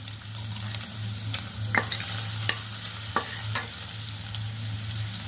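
Garlic frying in a pan for carrot rice, a continuous close sizzle punctuated by several sharp spoon taps and stirring clicks over a low steady hum, no talking.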